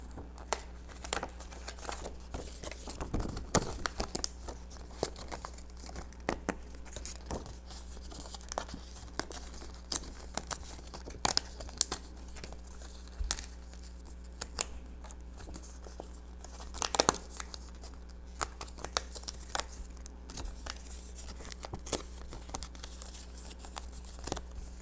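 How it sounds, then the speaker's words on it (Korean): Printed paper dice cards are torn out of a sheet by hand, with repeated crisp rips and crinkles in short bursts, close up over a low steady hum and with no talk. "이것도 똑같이 뜯어볼 거예요."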